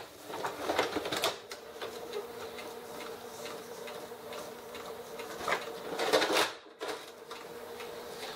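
A Canon inkjet printer being set up with a continuous ink system for PGI725/CLI726 cartridges pulls paper from its rear tray, giving a steady mechanical whir with clicking feed bursts near the start and again around six seconds, close and moderately loud.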